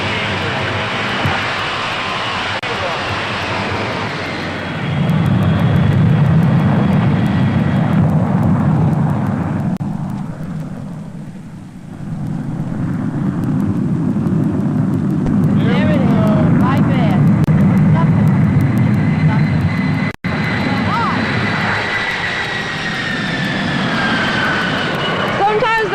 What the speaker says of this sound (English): you're cleared to take off on runway 29 left